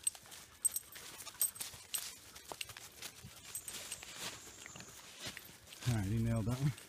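A blood tracking dog sniffs along a bear training track, making quick nose pops and snuffles in short irregular bursts close by, with someone speaking near the end.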